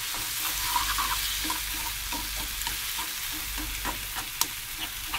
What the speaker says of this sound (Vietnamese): Mình xào cho cái phần cà chua này lát nữa nó nhừ nhừ đó các bạn